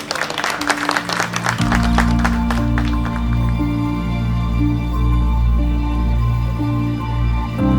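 An audience at a commemoration ceremony bursts into loud, steady applause, dense clapping that fills the space, with a low sustained hum underneath as it continues.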